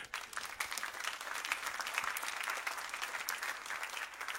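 Congregation applauding during a church sermon, a steady, fairly soft wash of clapping that holds evenly throughout with no speech over it.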